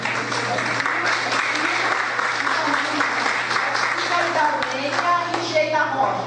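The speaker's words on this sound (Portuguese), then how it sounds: "eu vou pedir uma salva de palmas novamente para Sheila Rocha" Loud, dense applause from an audience at a televised event in Maceió, sustained throughout with steady clapping and crowd noise, and voices rising through it toward the end.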